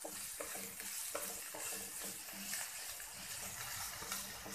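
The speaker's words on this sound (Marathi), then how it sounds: "सो आता आपण कांदा घालूया. कांदाही 1-2 मिनिटच आपण परतणार आहोत." Chopped onion sautéing in a pan for spicy sweet corn chaat, a steady close sizzle with scraping stirs throughout, a voice speaking over the cooking.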